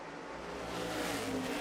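NASCAR Cup Series race cars roar by on track during the Federated Auto Parts 400, a steady engine drone that swells slightly as the cars pass, heard at a moderate distance and fairly quiet.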